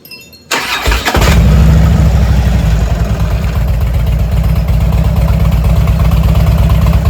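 A 2008 Harley-Davidson Ultra Classic motorcycle, warmed up and with a newly installed fuel filter, cranks briefly and fires, then settles into a loud, close, steady rumbling idle with a fast lumpy pulse.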